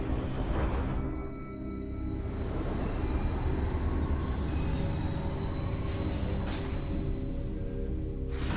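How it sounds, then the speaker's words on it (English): A train arriving on the pirate homeworld in the video game Metroid Prime 3: Corruption, a loud continuous rumbling rail roar with faint wheel squeal, alone without talk throughout. "You call for a train, the train arrives."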